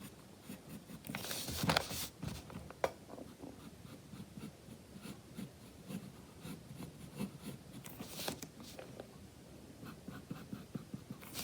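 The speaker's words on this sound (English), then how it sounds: "You just want to lightly sketch in these curves." Pencil lightly sketching curves on paper, soft scratchy strokes coming in short bursts with a few louder scrapes, close and quiet, with no talking.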